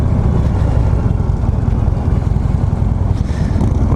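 A 2015 Harley-Davidson Street Glide Special with a 103 engine idling in a parking lot with a low, steady, throbbing rumble, close and loud, with faint wind noise over it.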